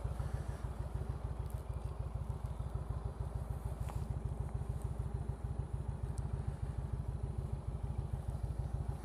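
An Indian motorcycle fitted with a Stage 1 exhaust idles steadily nearby, giving a deep, even, rapid thumping pulse that stays constant throughout.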